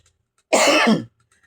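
A single harsh cough, loud and close, bursts out and stops abruptly within about half a second, with quiet around it.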